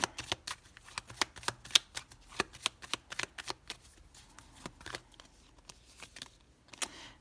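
Tarot cards are handled, shuffled and laid down one after another in a string of crisp, close card snaps and flicks with an uneven rhythm, quiet between the bursts and with no talking.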